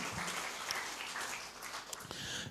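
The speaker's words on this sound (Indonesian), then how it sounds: "Tepuk tangan buat Roh Kudus, haleluya." Church congregation applauding during a sermon, a soft, distant patter of many hands clapping that runs steadily and fairly faint throughout.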